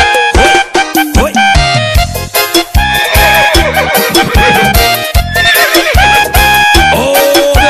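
A horse's whinny rings out inside loud, dense live music at a cowboy festival show, with rhythmic beats running throughout.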